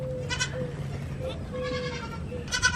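A little goat on a farm bleats in a few short, wavering calls, one near the start and another near the end, over a steady low background hum.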